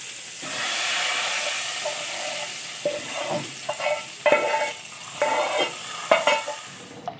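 Hot tempering of oil with green chillies and curry leaves is poured into cooked dal, bursting into a loud, steady sizzle and hiss, followed by irregular stirring and spluttering bursts close up, with no voices.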